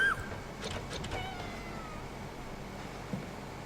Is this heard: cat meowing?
yes